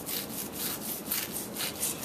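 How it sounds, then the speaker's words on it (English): Sharp knife sawing back and forth through firm jerk pork for sliders, a steady rasping scrape repeating in quick regular strokes, close and fairly quiet with no talking. "using a sharp knife, you want to slice it maybe about 3/4 of an inch or so"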